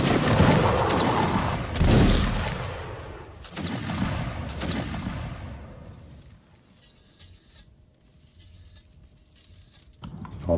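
A musket line fires a ragged volley in a Napoleonic line-battle game: a loud, dense crackle of many shots in the opening seconds, with further bursts around 2 and 3.5 seconds, then fading to a quiet lull before one more report at the end.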